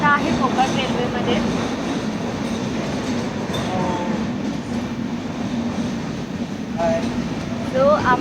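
Steady rumble and rattle of a moving Konkan Railway passenger train heard from inside the coach, continuous and fairly loud, with faint wheel squeals and occasional brief voices in the background.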